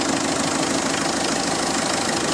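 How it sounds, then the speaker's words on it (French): A warm Citroën Xsara Picasso HDI 90 hp diesel engine runs steadily with its hood open, a loud, close, even clattering idle with no talking. "on a bien fait chauffer le moteur, quitte à accélérer un peu"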